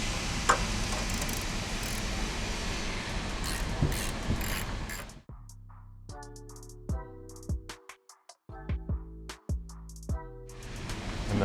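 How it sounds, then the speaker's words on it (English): A ratchet spins off the top strut nuts on a 2021-2025 Chevrolet Suburban's front suspension: a noisy stretch of loosening, then crisp, evenly spaced clicking in several short runs, close and clear. "Next, you remove the top 3 strut nuts"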